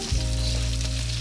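Garlic sizzles steadily in a hot pan for a Filipino dish, a loud, close frying hiss that starts abruptly and holds without pause, with a low hum underneath.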